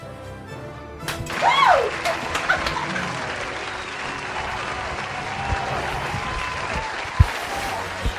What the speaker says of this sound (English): Home run! The crowd goes wild!